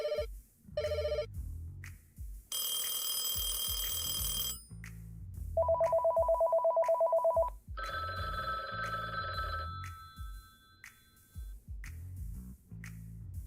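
A telephone rings in several separate bursts of electronic ringing and trilling tones, fairly clear and close, with no talking over it.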